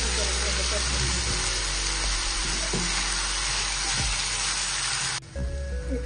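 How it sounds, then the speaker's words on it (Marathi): Ground coconut, poppy seeds and chopped coriander fry in oil in a pan, a continuous dense sizzle with faint stirring scrapes that cuts off sharply near the end, while a voice speaks over it. "खोबरं खसखस कोथिंबीर बारीक केलेलं आपण आता याच्यात घालून घेऊया आणि याला चांगलं तेल सुटेपर्यंत आपल्याला भाजून करून"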